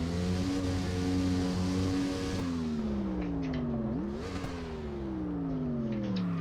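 Engine of a drift-built X truck in CarX Drift revs high and steady, then pitch swoops down and back up as the throttle is feathered, a sustained loud droning whine with tire slip blended underneath.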